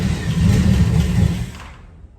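A budget race car's engine, newly fitted with a Pertronix Flamethrower ignition and ballast resistor bypass, fires up and revs with a loud, close rumble for about a second and a half before dropping away.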